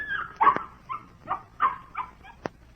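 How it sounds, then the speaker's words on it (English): A dog in a radio drama gives several short barks and yips mixed with whimpers, spaced irregularly and fairly close, with no talk over them. "Take the dog out of the crate."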